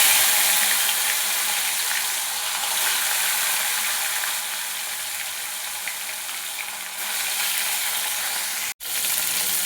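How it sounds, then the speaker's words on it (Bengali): Fish fry in hot, smoking mustard oil in a kadai over medium heat, giving a continuous loud hiss and crackle that stays steady throughout, with a brief clatter near the end. "আঁচটাকে মিডিয়াম রেখে মাছগুলোকে ভেজে নেব।"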